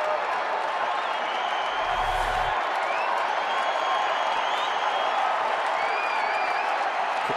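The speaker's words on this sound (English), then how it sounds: "Crowd's starting to come alive now" A baseball stadium crowd at an Arizona–Pittsburgh game gives off a steady, loud roar of cheering and murmur, with a brief low thump partway through and a commentator's voice mixed into the continuous noise.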